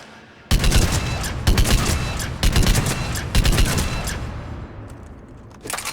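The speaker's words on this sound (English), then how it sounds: "Probamos este rifle." Rifle gunfire in the Mass Effect Legendary Edition video game: loud bursts of shots in several clustered volleys after a quiet start, with game ambience trailing off between them.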